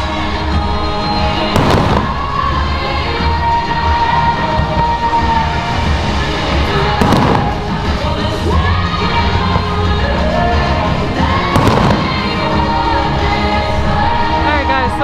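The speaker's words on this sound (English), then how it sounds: "I can enjoy the fireworks." Loud fireworks booming at intervals, three big bursts over a constant roar of crowd noise and rumble.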